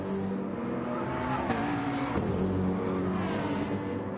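Race cars in a racing video game, a fast McLaren among them, roar past with steady engine drone and rising, falling pitch as they pass close, with no talk over the noise.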